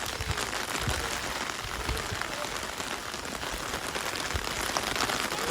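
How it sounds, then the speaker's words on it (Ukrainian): Steady heavy downpour falls in a continuous broadband hiss with scattered droplet taps, loud and close, with no voices. "А дощ кращий став. І то ще сильніший."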